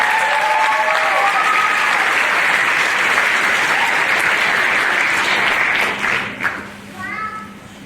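A high school audience applauds stage crew helpers at a Mr Hoosac pageant, loud, steady crowd clapping that carries most of the way before thinning out, with a voice breaking in near the end.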